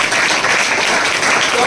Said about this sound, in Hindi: तो इनके लिए जोरदार ताली हो।